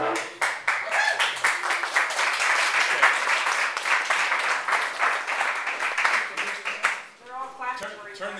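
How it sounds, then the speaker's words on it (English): An audience claps steadily in a room for several seconds, dense overlapping hand claps at a constant level, tapering off near the end as a voice starts speaking. "They're all clapping for each"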